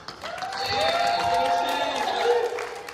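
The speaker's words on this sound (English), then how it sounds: "Give her a round of applause" Audience applause greets a guest invited up to the stage at a family event, a steady wash of clapping lasting the whole stretch, with a voice speaking over it.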